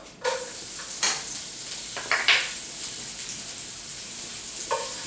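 Garlic sizzling in a hot pan with steak fond, a steady frying hiss broken by several stirring scrapes and clinks of a utensil against the pan.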